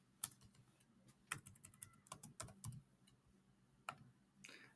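Typing on a computer keyboard, quiet scattered keystrokes in short irregular clusters, close and faint, with no talking.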